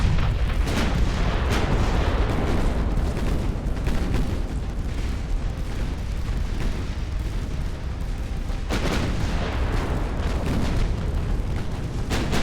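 A warship's magazine detonating in the naval game Ultimate Admiral: Dreadnoughts, with heavy booming blasts and continuous rumbling gunfire filling the whole stretch, loud and dense, with sharper cracks around the start and near the end.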